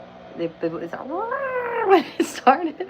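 House cat meowing loudly and insistently indoors, a long rising and falling wail followed by shorter yowls, close up, with a person speaking briefly over the start.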